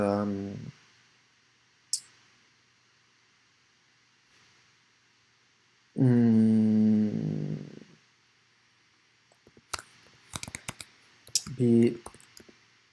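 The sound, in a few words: typing code on a computer keyboard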